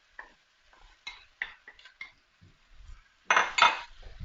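Cooked rice being stirred into a vegan spice bag mix in a pan, with spoon-on-pan scrapes and clinks in short bursts and a louder scraping stir near the end, close up and with no talk.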